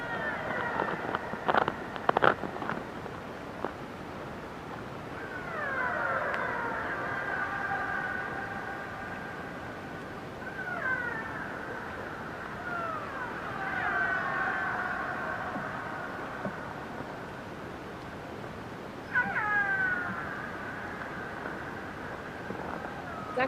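Recorded killer whale calls from British Columbia, several drawn-out whistling and squealing tones that rise and fall, some overlapping, separated by gaps of quiet hiss, with a few sharp clicks near the start; they sound soft and distant.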